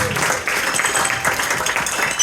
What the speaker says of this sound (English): Give these guys a massive round of applause, ladies and gentlemen.